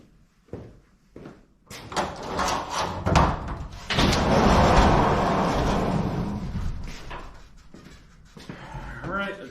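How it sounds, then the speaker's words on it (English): A door is opened in a smoky workshop housing a 13.5HP Briggs & Stratton LCT engine mini crawler excavator. Clunks and a latch knock come first, then a sustained rush of broader noise as the door swings open, with a person talking nearby. "I'm gonna open the door this time."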